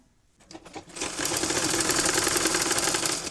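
A sewing machine stitches fabric for a 6–12 month baby tikli hat, starting with a few slow clicks and then running in a fast, steady, close whirring rattle, with no voices.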